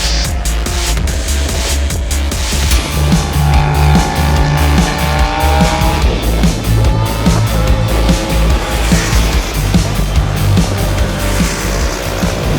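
At a track day at Sodegaura in Japan, a loud motorcycle engine roars steadily around the race track, its whine rising and falling with gear changes over a constant heavy rumble.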